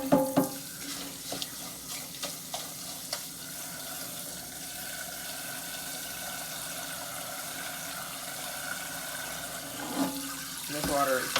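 Hot running tap water pours steadily into a bowl of rice, with occasional clinks and sloshing as the grains are stirred and swished, louder splashing near the end.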